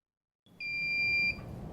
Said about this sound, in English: you will hear a beep and the yellow light will flash